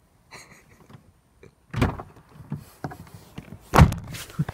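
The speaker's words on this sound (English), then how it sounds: "I just closed the door." A door closing indoors in a home, giving two distinct solid thunks at a moderate distance with quiet pauses between them and no talking.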